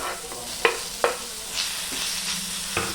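Onion, tomato, ginger, cinnamon and cloves fry on a cast iron tava, a close sizzle punctuated by several sharp scraping strokes of stirring at irregular intervals.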